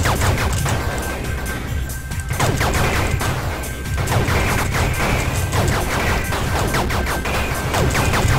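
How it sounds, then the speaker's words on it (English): Gunfire from the video game SideArmed, with red guns firing three rapid shots and yellow guns single shots, heard as a dense, loud barrage of repeated bursts over a constant game background. "the red guns shoot 3 rapid shots, the yellow does a single shot"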